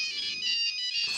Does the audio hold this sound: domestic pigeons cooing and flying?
no